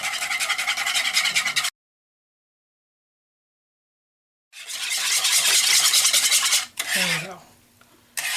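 A wire whisk beats peanut butter cookie ingredients by hand in a bowl, a fast, steady scraping rhythm close up, cut off by a silent gap and then resumed in two further bursts.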